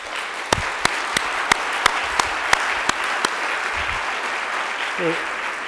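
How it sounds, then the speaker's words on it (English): Sparse, evenly spaced claps ring out one after another for an award runner-up at the 2012 PEN American Center Literary Awards, sharp and distinct in a quiet hall, followed by a brief voice near the end. "Sinan, you want to stand up so we can applaud your efforts?"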